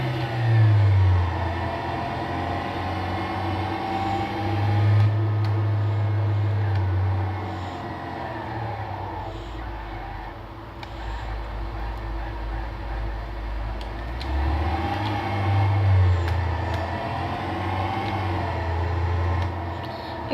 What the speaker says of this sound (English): The cars in this game are pretty loud, even when I put the volume down.